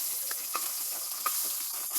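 Hot oil sizzles in a wok for frying pabda fish, a steady close hiss with a few soft crackles and pops, no voices.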